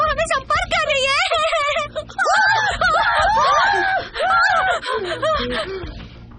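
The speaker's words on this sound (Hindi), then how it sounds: "क्यों चिल्ला रहे हो?" A person screaming in loud, repeated, wavering shrieks with gasping breaths between them, near and intense, continuing throughout.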